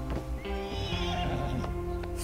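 A Norfolk Roadster horse in Red Dead Online gives a loud, close neigh, a wavering whinny over snorting and a few clip-clop hoof sounds, no speech.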